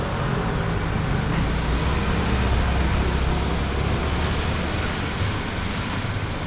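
Street traffic in Macau gives a dense, continuous roar of passing vehicles, broadband and wind-like, holding steady and loud with no clear gaps or voices.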